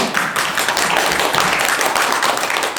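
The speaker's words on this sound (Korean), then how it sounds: "박수 부탁드립니다" Audience applause at a Korean ceremony for the information systems sector, loud dense clapping close by that fills the whole stretch evenly.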